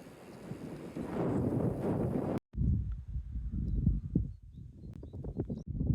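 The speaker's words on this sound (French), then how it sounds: "Je pense que je dois avoir encore 40 km/h de vent de face là" Strong 40 km/h headwind buffeting a microphone while cycling on a bikepacking trip through Portugal and Spain, loud rumbling gusts that cut out briefly and return in uneven bursts, with no voices.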